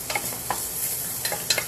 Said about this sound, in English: Make sure we get this onion softened.